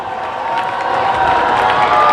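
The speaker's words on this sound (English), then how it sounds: "Home crowd makes a little noise here." A home crowd roars at a 2019 high school varsity football game between Dowling Catholic and Ankeny Centennial, a sustained wash of cheering and shouting that swells slightly toward the end.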